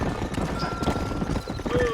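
Several horses clop along in a Wild West video game, quick overlapping hoofbeats close by, mixed with a high thin tone that may be a whinny, over a brief stretch.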